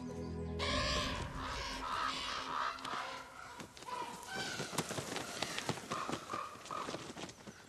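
Ravens gathered at a carcass in the taiga give harsh repeated croaking caws, some close and others further off, over rustling and shuffling movement near the feeding spot.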